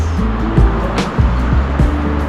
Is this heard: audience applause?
no